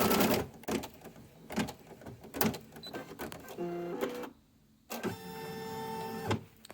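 An in-the-hoop embroidery machine stitches a Christmas banner with rapid mechanical bursts, whirring motor runs and buzzing tonal passes broken by short pauses, close and moderately loud, with no talking.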